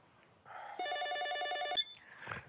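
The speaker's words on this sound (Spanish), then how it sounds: "cuando un teléfono suena a horas de la madrugada" A telephone rings once in the small hours, a steady electronic ring pattern of about one second set against a quiet room, with a faint rustle before it and a short noise just after.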